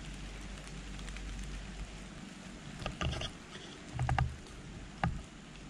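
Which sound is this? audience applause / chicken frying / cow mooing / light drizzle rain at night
light drizzle rain at night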